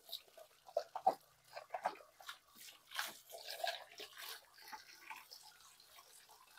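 Water splashing and trickling as containers are rinsed in a kitchen during a deep clean, with irregular close splashes and pours of moderate loudness and no talk.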